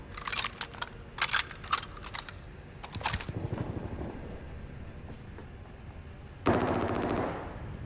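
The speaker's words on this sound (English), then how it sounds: "Who are they shooting at?" Gunfire in the Warzone video game comes as several short bursts of automatic fire early on, then isolated shots, followed by a steadier mechanical rumble and a sharp loud burst near the end.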